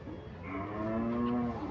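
A single cow lets out a long, drawn, close moo that rises and holds, at a cattle market at Gabtoli, with no talk.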